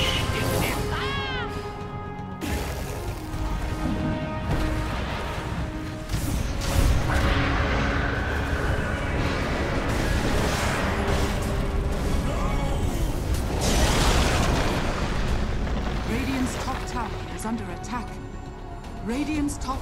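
Explosions and attack hits on a tower in the video game Dota 2, a steady barrage of crashes, booms and thwacks for about twenty seconds beneath continuous voice commentary.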